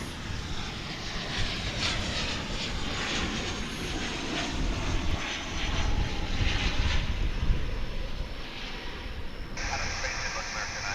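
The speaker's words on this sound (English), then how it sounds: "Coming in at this moment from Omaha, Nebraska, we've got American Airlines Flight" American Airlines Boeing 737-800 from Omaha landing, its engines producing a loud sustained roar that swells midway then eases, with a voice talking over it.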